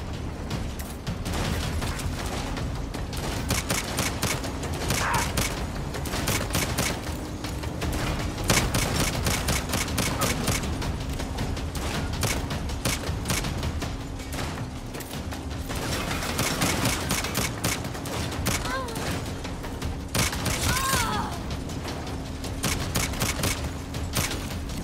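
Gunfire in a Saints Row game rattles on in dense, continuous bursts, with rapid volleys layered over a constant engine-like rumble and occasional heavier impacts, loud and close throughout.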